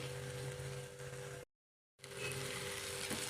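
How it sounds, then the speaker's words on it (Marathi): Garam masala sautéing in hot oil in a pan for a matar paneer curry, a steady bright sizzle that cuts out briefly and then resumes just as continuous and close. "हे पण मस्त परतून घ्यायचं आहे।"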